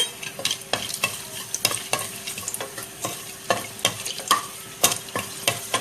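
Cinnamon, cloves and ginger sautéing in hot oil in a pressure cooker, a close, loud sizzle broken by repeated sharp scraping strokes of a spoon against the metal, with no talking.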